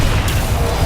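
A Flipendo knockback spell is cast in the Hogwarts Legacy video game, heard as a dense, loud low thump and rumble with a sharp whoosh near the middle, all blended into continuous battle noise.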